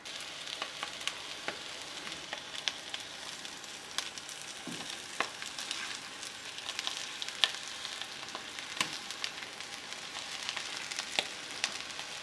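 Boiled smashed potatoes fry in olive oil in a pan, giving a steady close sizzle dotted with sharp crackles and pops throughout, with no talking.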